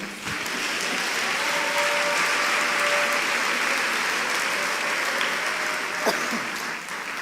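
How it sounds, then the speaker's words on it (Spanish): Sustained applause from a congregation at an international church convention, a dense, steady wash of clapping that holds evenly for several seconds before easing at the end. "Denle una palma de aplauso al Señor"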